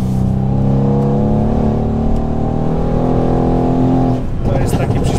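A modified AMG sports car engine revs up loudly and steadily at about 10% throttle, its pitch climbing smoothly as it accelerates, then a rougher burst of engine noise at the end.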